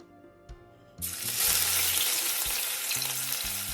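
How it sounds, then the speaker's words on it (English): Garlic, pimento seeds, ginger and thyme drop into hot vegetable oil and burst into a loud, steady sizzle after a quiet moment with a few clinks, frying close up without any talk. "pimento seeds and ginger, and our thyme to be sauteed for 1 minute"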